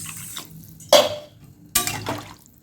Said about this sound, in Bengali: এবার আমি জল দিয়ে নেব